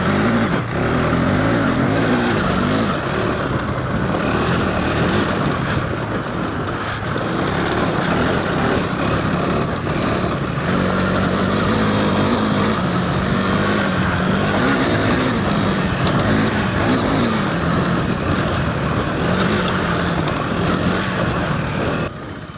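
A KTM 390 Adventure R motorcycle rides hard over a loose, rocky trail, its engine loud and close with rising and falling revs, wind rush and rattle throughout.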